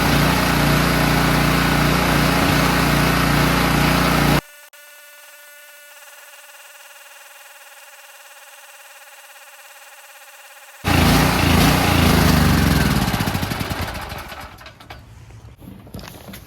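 Generac GP3250 portable generator engine running loud and steady, cutting out into near silence for several seconds, then briefly roaring back before fading and sputtering as it runs out of fuel.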